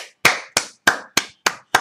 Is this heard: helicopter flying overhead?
no